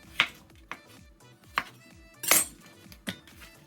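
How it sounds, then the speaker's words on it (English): A knife cuts peeled potatoes into thin slices on a cutting board, giving about six sharp, separate chops at uneven intervals, close and clear with quiet between strokes. "I'm now going to peel some potatoes and cut them into thin slices."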